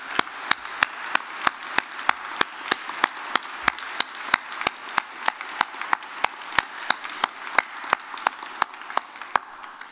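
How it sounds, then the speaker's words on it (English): A single person claps in slow, evenly spaced sharp claps, close and distinct, about three per second for the whole stretch, in a Belfast degree ceremony hall honouring nursing graduates. "Let's give them a huge round of applause."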